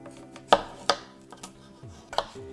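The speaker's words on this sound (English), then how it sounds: "For the first meal, I am going to take a potato and chop it up." A knife chops through a potato on a cutting board in a few sharp, irregular knocks, three crisp and prominent, the others softer, close by in a quiet kitchen.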